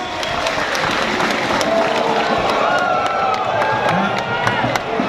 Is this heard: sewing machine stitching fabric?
no